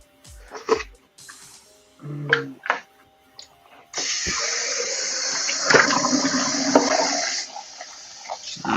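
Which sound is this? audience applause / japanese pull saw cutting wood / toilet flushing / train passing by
toilet flushing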